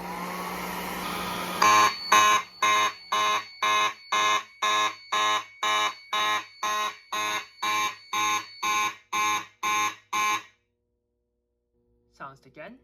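A Notifier NFW-50 fire alarm panel sounds after a heat detector is activated, giving loud, evenly pulsed alarm tones with a steady high whine, about seventeen beats in a row, then stopping abruptly, followed by faint handling noise.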